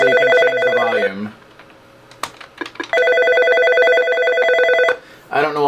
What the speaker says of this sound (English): Feature star 80 just makes the phone ring constantly, so you can change the volume.